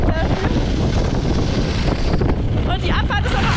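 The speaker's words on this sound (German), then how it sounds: "aber es ist schon wieder krass, krass windig" Strong wind on a ski slope at Bad Gastein buffets the microphone in a constant loud roar, with a voice talking faintly underneath.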